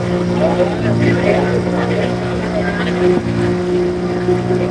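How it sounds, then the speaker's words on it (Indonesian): Boat ride across calm water to Pulau Merak Besar island, a steady loud engine drone with rushing water and wind throughout, close and continuous. "Lama perjalanan di atas kapal ini cuma sekitar 10 menit aja."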